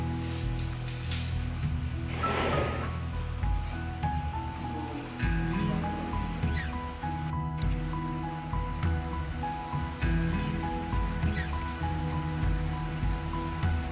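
Heavy rain pours down at home, a dense constant hiss of drops on surfaces running throughout with a steady hum beneath and no talk.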